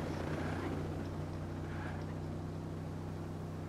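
A steady, droning helicopter engine hum in the video game Ghost Recon Breakpoint, with a low, constant rotor throb, unchanging and fairly loud.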